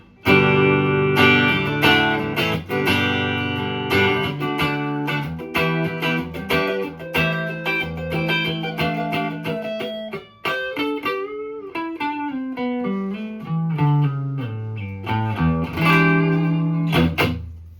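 A homemade Fender-style electric guitar played through its neck pickup with distortion rings out clearly on its own, with plucked notes and chords, sustained tones and sliding bends.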